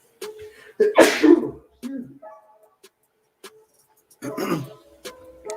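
A single sharp sneeze bursts out loud and close, followed by brief talk and a few light clicks in otherwise quiet surroundings.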